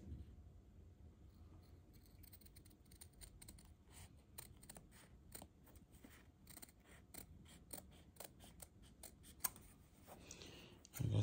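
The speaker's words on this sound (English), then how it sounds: "Then I'll start trimming the edges here." Scissors snip around the edges of an embroidered patch for a bomber jacket, a steady run of crisp close cuts with small clicks and rustles, quiet and without speech.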